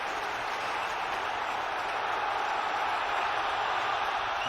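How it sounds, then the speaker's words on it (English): Chelsea fans in a stadium crowd cheer during a Premier League football match against Tottenham, a steady, dense roar heard from a distance and filling the whole stretch without letting up. "And that's got the crowd going again."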